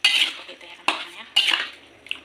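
Soy-sauce chicken is stirred in a pan, three distinct scraping clatters of a utensil against metal, close and loud, separated by short pauses.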